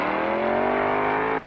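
A 1964 drag-strip car launches with a loud, sustained engine roar that climbs steadily in pitch, then cuts off abruptly near the end.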